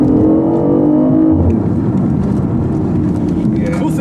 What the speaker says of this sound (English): The cool thing about this car is you can really hear that wastegate when it pops.